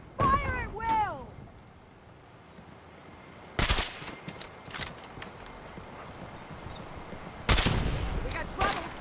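Volley of gunfire from defenders firing at attacking Gulpers in Fallout 4 Far Harbor, two sharp loud bursts of shots a few seconds apart, with shouted voices at the start and a noisy foggy background between.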